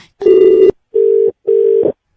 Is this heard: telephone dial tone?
yes